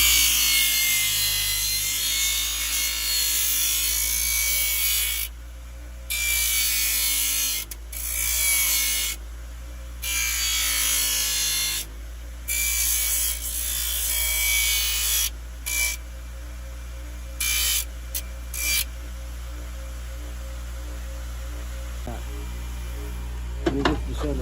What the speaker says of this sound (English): I come over here to my grinder and I just sand this excess pad off